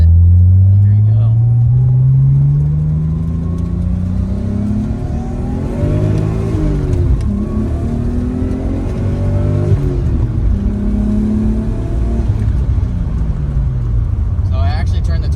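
A Nissan S13 with a turbocharged RB25 engine, heard from inside while driving: a loud, steady engine drone rising and falling through the gears, with turbo whistle and whoosh on top and a voice over part of it.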